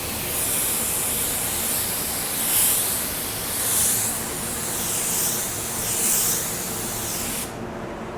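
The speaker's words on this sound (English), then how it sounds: "I'm gonna do 2 coats of pearl, and for the most part, I do them back to back" A spray gun lays down a pearl paint coat on a small area as a loud, steady close hiss, swelling and easing in regular passes for about seven seconds before cutting off.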